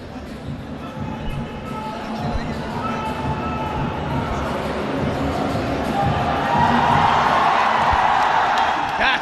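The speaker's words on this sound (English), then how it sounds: "And the crowd gets loud and roaring." A crowd at an MMA fight keeps up a dense, continuous roar that swells gradually and grows loudest toward the end, with a commentator talking over it.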